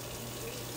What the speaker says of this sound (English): I just use warm tap water.